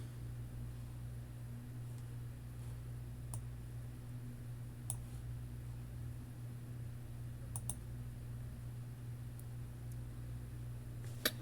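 Sharp, faint computer mouse clicks select a spreadsheet cell, a handful of isolated clicks spaced several seconds apart over a steady low electrical hum and quiet room noise.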